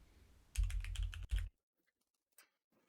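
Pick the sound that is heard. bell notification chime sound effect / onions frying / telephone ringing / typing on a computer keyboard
typing on a computer keyboard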